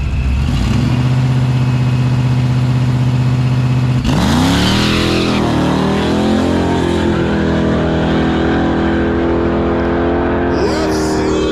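Race cars idle and rev at a no-prep True Street event at Immokalee Regional Raceway, with a Tesla Plaid racing; a loud engine drone with a sudden surge of rising and falling tones midway, close and continuous.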